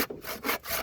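A hand saw cuts through wood in short rasping strokes, a few quick back-and-forth pulls close to the ear with brief gaps between them.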